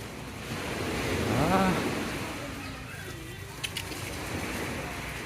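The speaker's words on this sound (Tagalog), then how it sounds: "nakikita ko na yung hampas ng dagat mga idol. Naririnig pala" Ocean waves washing onto the shore at high tide near a beach boardwalk in Calatagan, a steady broad rush of surf with wind noise, and someone speaking briefly partway through.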